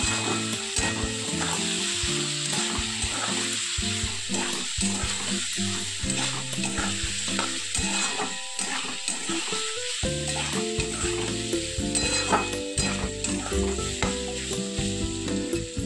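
Ginger garlic paste fries with vegetables in a wok, a loud continuous sizzle broken by repeated scraping stir strokes and clatters in an irregular rhythm, close up and without talk.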